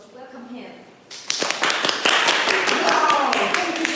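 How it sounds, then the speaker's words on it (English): A crowd applauds to welcome a sales engineer introducing inkjet printers: brief talk, then a sudden burst of dense, close clapping that carries on steadily to the end. "let's give him a round of applause to welcome him"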